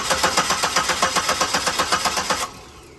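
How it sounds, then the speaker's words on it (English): A car engine cranks with the fuel pump relay pulled and fails to start, giving a rapid, even chugging of starter strokes for about two and a half seconds that then stops abruptly, close and alone. "the engine does not start because the fuel pump isn't giving it any pressure"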